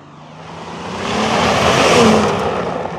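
A 2023 Land Rover Defender's engine revs hard while off-roading, a loud broadband roar that builds, peaks and eases slightly over three seconds, with tyre and wind noise mixed in.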